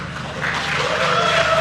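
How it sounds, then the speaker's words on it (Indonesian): An audience at a mass subsidized-mortgage signing event applauds for the BTN bank director, a steady, loud burst of crowd clapping that runs unbroken through the short moment. "Tepuk tangan buat BTN."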